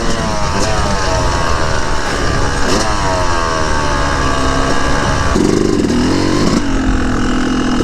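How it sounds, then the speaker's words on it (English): A dirt bike fitted with an FMF Turbinecore 2 exhaust pulls hard at full throttle in second gear, its loud, continuous engine note climbing in pitch and shifting once near the end, with heavy wind noise. "So we're gonna test the top end power of the bike, see if it changed at all."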